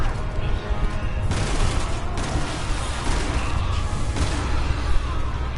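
Gunfire and reloading in Resident Evil 6 on No Hope difficulty, a dense stretch of loud repeated shots and mechanical clicks with broadband bursts across the whole span, no talk.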